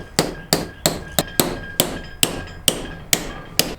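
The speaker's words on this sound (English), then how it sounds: "take a punch and a hammer and pop those out" A hammer strikes a metal punch eleven times in a steady rhythm on a Peerless 2300 differential, each sharp ringing clink decaying quickly, loud and close.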